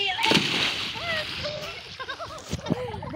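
People jumping into water outdoors, with a close splash and sloshing, amid excited voices and chatter of swimmers.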